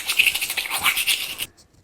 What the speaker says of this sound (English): Brushing teeth